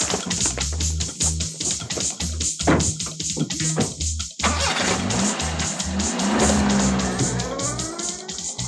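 A car starts up and pulls away, engine rising in pitch with tire noise as it accelerates, loud and close with a rhythmic thumping backdrop throughout.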